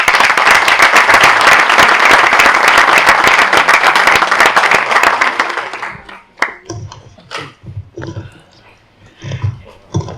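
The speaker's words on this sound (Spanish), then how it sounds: "le recibimos, por supuesto, con un fuerte aplauso." A large crowd applauds loudly and steadily, then the clapping fades away and scattered movement and faint voices follow.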